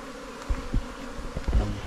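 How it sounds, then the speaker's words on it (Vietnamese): Honey bees buzz around a dug-up underground nest, a steady close drone with a few louder passes as individual bees fly near. "Cứ để đấy đoạn ong bay vào."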